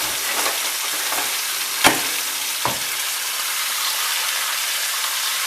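Thin-cut Creole pork chops browning in a hot pan give a bright, steady sizzle close by, broken by a couple of sharp clinks as pieces are moved or added.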